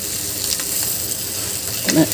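Chopped giloy (gulvel) leaves sautéing in a pan over medium-high flame, a steady close sizzle with light stirring scrapes and a brief louder clatter near the end.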